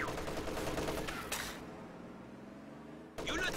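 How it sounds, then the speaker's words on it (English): An MG34 machine gun in Company of Heroes 2 rattles off a dense burst of automatic fire, falls to a quieter battlefield rumble, then opens up again loudly at the end. "MG34 just firing on that church, slowly draining those conscripts of their life"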